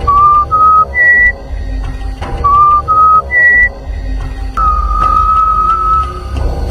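A person whistles a short, repeating tune in a quiet night setting, three bright phrases of rising notes with brief pauses, closing on one long held note, loud and close over a low background rumble.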